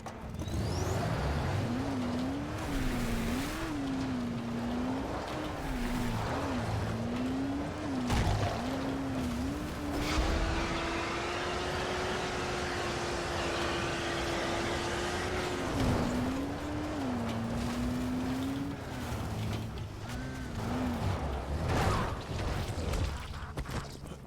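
A car engine in the video game Dying Light The Following, a steady droning hum that rises and falls in pitch as the vehicle drives along, running throughout with occasional thumps and bursts of game noise.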